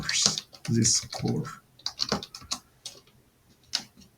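Clicks of typing on a computer keyboard, a few short irregular bursts of keystrokes, close and fairly quiet, with a voice speaking in between.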